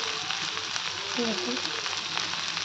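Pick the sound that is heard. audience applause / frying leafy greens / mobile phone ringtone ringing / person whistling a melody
frying leafy greens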